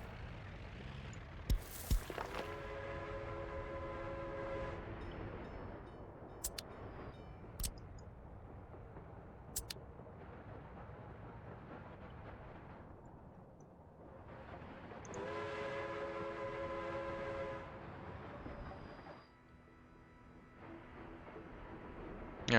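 Trains rumble along in a video game, with whistle blasts sounding twice, clearly and at length, over a steady rolling hum and a few sharp clicks.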